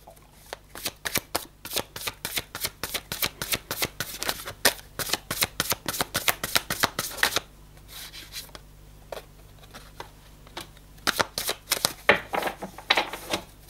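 Tarot cards being shuffled by hand produce quick bursts of crisp riffling clicks in a steady rhythm. After a short pause the shuffling starts again, close and fairly quiet, with no talking.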